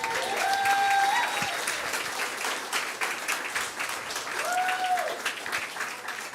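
Applause from a live-stream concert audience thanking the volunteers, a dense steady wash of clapping filling the room with a few whoops and whistles rising over it.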